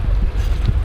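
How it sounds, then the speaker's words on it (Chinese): Wind buffets the ear in loud, low rumbling gusts while cycling along a river waterway, close and unsteady, with no other sounds standing out. "吹到耳畔的这些风声，其他就没有什么声音了"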